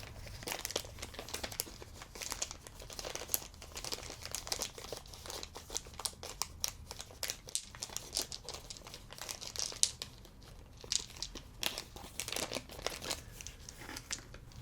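A bag of dice handled up close, with continuous crinkling, rustling and soft crunching of the bag in quick irregular bursts, fairly faint and with no talking.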